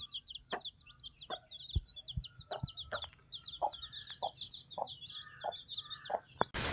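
Native Mullan (frizzle) chickens and a black chick cluck repeatedly in a poultry yard, with short high chirps and clucks coming fairly close at a quiet level, and no talking.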